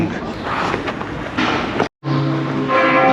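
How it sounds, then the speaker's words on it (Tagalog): A church bell rings with sustained, resonant tones over a busy background of rumbling noise and some voices, briefly cut off then continuing. "Tumutunog ng kampana. Ayan na, ang kampana."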